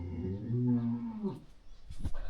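A single deep, drawn-out cow moo close by, followed by faint shuffling and a soft thud.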